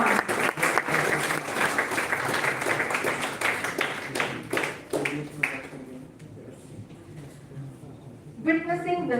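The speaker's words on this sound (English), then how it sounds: "A big round of applause for Mangalashan Naik, sir, and Professor Jan" An audience at the inauguration ceremony of a national oratory contest breaks into brisk applause with distinct claps. The clapping thins out and fades, and a voice follows at the end.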